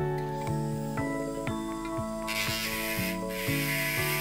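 A dental handpiece spins a bristle brush loaded with diamond polishing paste against a VITABLOCS Mark II ceramic restoration at roughly 8,000 to 9,000 RPM, giving a steady high whine with rhythmic pulses about every half second and a hiss that rises midway.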